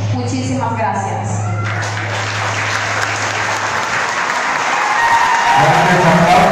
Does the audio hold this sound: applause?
yes